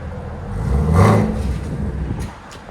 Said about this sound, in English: Even with stock exhaust, still sounds sick.